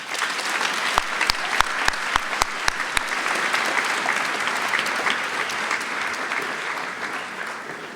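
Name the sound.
applause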